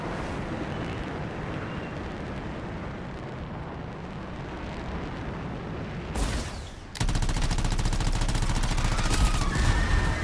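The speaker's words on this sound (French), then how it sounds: "Ouh, ça explose ça." Explosions and gunfire in the video game Anthem come as a dense, continuous barrage of shots and blasts, loud throughout, with a brief burst change partway before the firing resumes even heavier.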